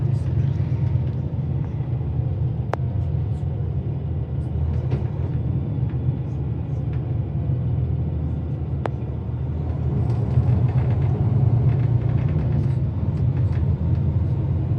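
A TransWA coach rolls through the Byford bus interchange, a steady low engine rumble close by that holds throughout, with a few faint clicks and knocks over it.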